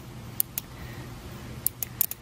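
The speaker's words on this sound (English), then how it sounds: "That sound you're hearing is just the coil that's connecting from pins 87 to 30." Automotive horn relay coil for an air horn kit clicking as it is switched to ground, a handful of sharp, close clicks in small irregular groups over faint background hiss.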